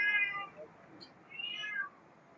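A cat meows twice, fairly close, with a short pause between the calls and faint background noise.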